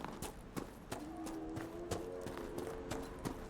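Horses in the fantasy game Dragon Age, hooves clip-clopping in a steady, fairly quick rhythm of distinct sharp knocks, moderately faint, with a brief soft tonal sound in the middle and no clear talk.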